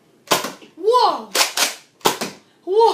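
A Nerf Mega Magnus blaster fires darts in loud, sharp cracks, four shots in quick succession up close, between excited exclamations from a child.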